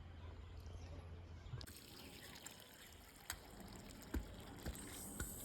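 Water trickles and splashes steadily outdoors while plants are watered, with a few soft thumps and occasional faint background voices.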